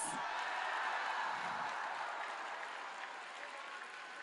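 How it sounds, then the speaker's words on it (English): Sustained applause from a large convention audience at Minecon fills the whole stretch, loud and steady at first and easing slightly toward the end, with no voices over it. "You got a much bigger applause than me"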